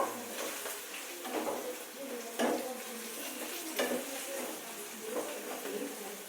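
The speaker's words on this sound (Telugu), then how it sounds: "పచ్చిమిరపకాయలు బాగా ఎర్రగా అయ్యే వరకు పోపు బాగా వేయించుకుంటే బాగా టేస్ట్ ఉంటుంది" Green chillies and tempering spices frying in hot oil in a pan, a steady sizzle broken by several stirring scrapes, close and fairly quiet, with faint talk in the background.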